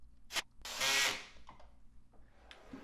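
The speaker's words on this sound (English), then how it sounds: "I secured the panel to the frame with 1¼ inch pocket screws" A power drill drives 1¼ inch pocket screws through a plywood panel into a 2x4 frame: a quick tap, then a short whirring burst, followed by quieter scrapes and clicks.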